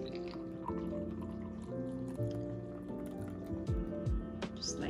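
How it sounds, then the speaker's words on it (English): Milk poured into a glass for a latte macchiato at a home coffee bar with a Nespresso machine, a wet liquid splash and trickle running steadily over a constant low machine hum and rattling background. "You want to make sure you pour in your milk first."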